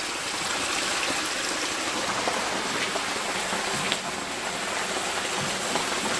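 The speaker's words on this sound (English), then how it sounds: "Waterfall." Steady rushing water roars without a break, a dense, even hiss close by with no voices.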